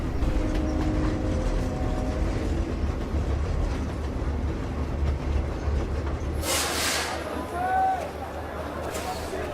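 A train runs along an Indian railway with a steady rumble and rattle of carriages, a brief high wheel squeal near the end, and faint voices inside the car.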